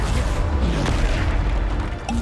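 A Bombarda spell explosion in the Hogwarts Legacy video game: a dense, loud, low boom that rumbles steadily for about two seconds with no break and no speech over it.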